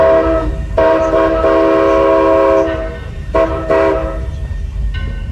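The C.P. Huntington narrow gauge railroad train sounds its horn in several sustained blasts with short gaps between them, heard close and loud over a low rumble of the moving train.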